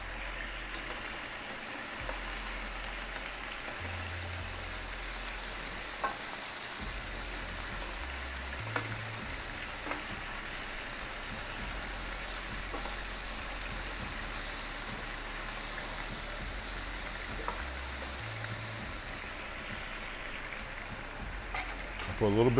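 Chicken fries in olive oil in a pan, a steady soft sizzle and crackle going on and on, with faint occasional clinks over the quiet frying.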